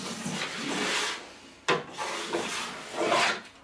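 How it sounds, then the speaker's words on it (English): A plastic scraper rasping wax off a snowboard's base and edges: several long, loud scraping strokes with a sharp scratchy attack in the middle, close up and with no talking. "If you have wax on the edge, just scrape it off."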